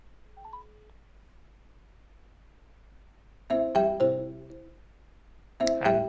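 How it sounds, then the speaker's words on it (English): A phone call rings through a headset on the receiving end, with two loud ringtone bursts in the second half after a faint beep and background hiss. "And there it rings."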